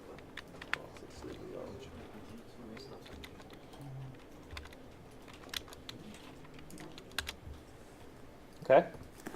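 Keys clatter on a computer keyboard in short irregular bursts of soft clicks, fairly close, with a louder knock near the end while a person talks quietly in the room.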